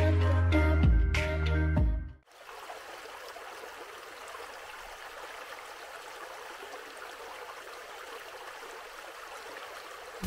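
RV black tank draining, a steady rushing gurgle of wastewater flowing through the hose, moderately faint and continuous after a short burst of louder sound at the start.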